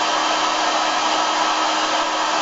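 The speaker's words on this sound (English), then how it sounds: "when I turn the hairdryer on high, you can watch the graph" A hair dryer runs at full power, a loud, steady, close whooshing roar that holds constant throughout with no voices.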